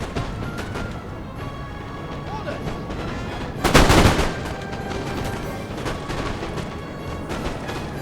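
Musket infantry volleys in Napoleon Total War, a continuous crackle of battlefield gunfire with one louder, denser volley bursting out midway before settling back into the steady rattle.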